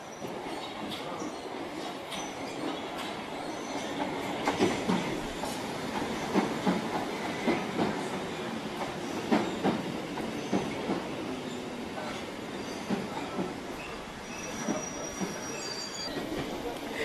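A London Underground Piccadilly line train runs at a steady rumble, with rhythmic wheel clatter and occasional squealing, heard from close by and fairly quiet.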